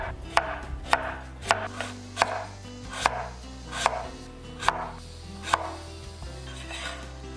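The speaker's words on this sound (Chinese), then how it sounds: "准备2个红薯，刮去外皮，" Knife slicing peeled sweet potatoes on a cutting board, a series of firm, evenly paced chops about one every three-quarters of a second, close and alone under a low steady hum.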